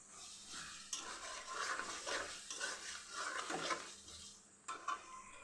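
A spoon scrapes and clinks in a pan while spices fry and are stirred for a beef curry, with repeated rhythmic scraping strokes over a faint sizzle, quiet and close.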